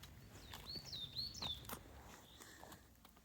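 Birds chirp and call in short bright phrases on a forest path beside a forester's lodge, fairly close and clear over quiet ambient noise, with no talking.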